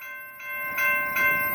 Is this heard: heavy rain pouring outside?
no